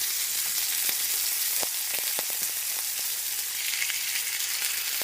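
Pork chops brown in a pan for a crock pot mushroom pork chop dish, giving a steady, even sizzle with a few faint clinks, close and alone without talk.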